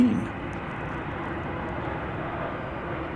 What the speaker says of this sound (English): Here comes American Flight 715 from San Antonio, Texas. It's an Airbus A319.